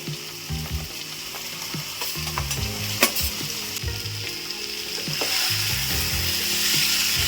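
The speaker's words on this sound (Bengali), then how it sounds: "এখন ফুলকপিগুলো দিয়ে দিচ্ছি।" Cauliflower and peas frying and being stirred in a pan for a Bengali fish head and cauliflower curry, a steady close sizzle with scraping stir strokes that swells louder toward the end, no talking.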